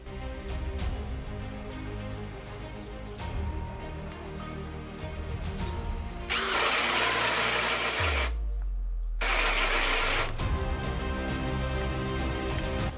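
A NAREX ASP 600-2B hammer drill runs switched to second speed, giving a steady loud whine. It surges louder and harsher partway through, drops briefly to a low hum, then roars back up, close with no talk.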